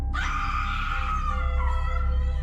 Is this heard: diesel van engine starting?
no